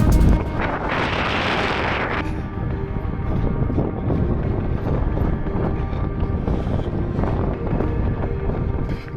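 Strong wind roars across a steep road climb in the Scottish hills, buffeting the microphone loudly and without a break, with a harsher gust near the start, and no voices.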